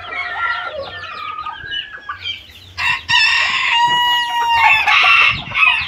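A rooster crows loudly nearby while chickens cluck and squawk around it in a farmyard, with overlapping bird calls throughout.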